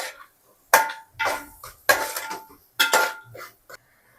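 Metal spoon scraping and clinking in a pan while onions and turmeric are stirred, a few sharp bursts with short pauses between, close and clear with no talk.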